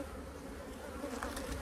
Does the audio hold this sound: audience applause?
no